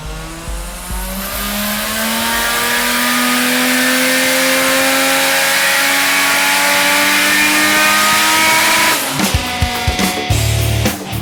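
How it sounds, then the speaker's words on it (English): A Toyota Cresta drag car built to about 600 wheel horsepower runs a sustained full-throttle power run, its engine roaring loud and close for around nine seconds before cutting to rougher, choppy revs near the end. "A full throttle, foot to the floor power run that simulates exactly what this car will be doing on a drag strip"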